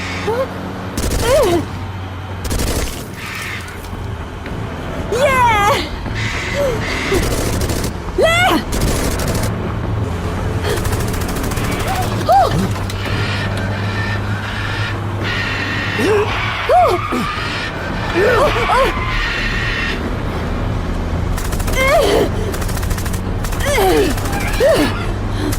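Gunfire rattles through a scene of the Hindi-dubbed 2022 film Dinosaur World, with repeated sharp shots and rapid volleys sounding close and loud, scattered across the stretch amid intermittent voices and background score.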